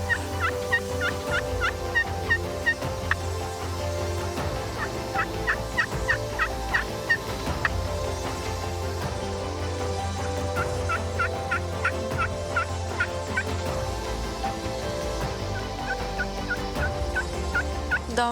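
Wild turkeys gobble at a roost site in the early morning during a turkey hunt. Several bouts of rattling gobbles come from a moderate distance, repeating every few seconds over a quiet background.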